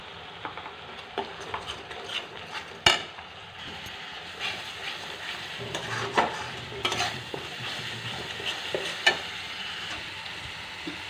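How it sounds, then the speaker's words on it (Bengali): Ground spices with turmeric, cumin, pepper, coriander and chili powder fry and get stirred in a pan for a fish curry: a constant soft sizzle with repeated close scrapes and sharp clacks of a utensil, no voices. "মশলাটা কষে নিচ্ছে"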